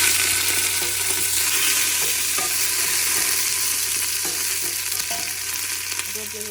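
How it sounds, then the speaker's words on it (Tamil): Curry leaves hit hot oil while cooking a crab curry, filling the clip with a loud, steady, crackling sizzle close up, with faint stirring underneath. "இப்போ கருவேப்பிலை போடுறேன்."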